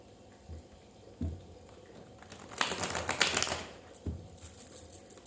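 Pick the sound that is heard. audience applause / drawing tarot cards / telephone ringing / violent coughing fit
drawing tarot cards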